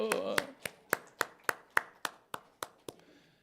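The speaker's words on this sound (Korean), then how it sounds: "박수." A church congregation claps in a steady rhythm, about ten sharp, evenly spaced claps in a row, following a brief spoken word at the start.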